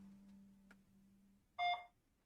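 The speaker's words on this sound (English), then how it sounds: "Oh, I hear the beeping." In the video game Jimmy and the Pulsating Mass, a quiet low hum fades out and a short, faint electronic beep sounds once near the end.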